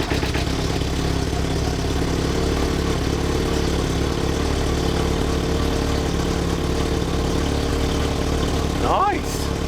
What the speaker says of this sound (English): crank her up, and let's see how she runs